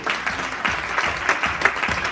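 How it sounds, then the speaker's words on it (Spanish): A congregation at a church service claps in a rhythmic, pulsing burst of applause, moderately loud and a little uneven, with no talking over it. "Denle una ofrenda de palmas al Rey."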